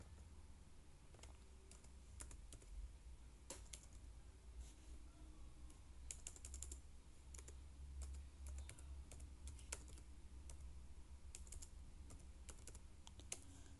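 Steady clicking of computer keyboard keys, typed in an irregular stream of close, light taps over a low background hum while entering data into POM-QM software for a break-even analysis, with no one talking.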